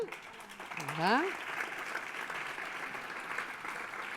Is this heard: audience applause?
yes